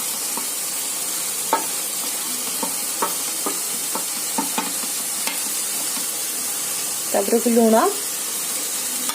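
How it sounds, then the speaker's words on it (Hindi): Spice masala for an Odia chicken and potato curry fries in a pan with a low, steady sizzle, punctuated by scattered light taps and scrapes of a spoon, and a voice talks briefly near the end. "एबे हमें मसला को भले से कषी दबा"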